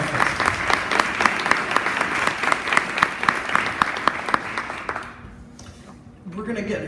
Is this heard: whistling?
no